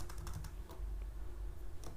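Computer keyboard typing in quick, close bursts of clicky keystrokes while entering a spreadsheet formula, steady and moderately quiet with no talking.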